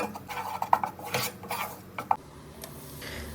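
Milk being stirred into a butter and flour roux for white sauce pasta, with a utensil clinking and scraping against the pan in short irregular strokes, close up and without voices.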